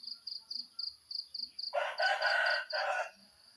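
A rooster crows loudly and close by in a rural Thai backyard during light rain, one long crow in two bursts that stands out over a steady high insect chirping.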